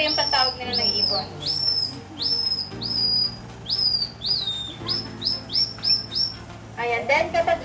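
In Palawan, Philippines, someone imitates a bird call to lure birds with a series of rising, whistled chirps in a quick, uneven rhythm, close and clear, ending in a flurry of rapid notes.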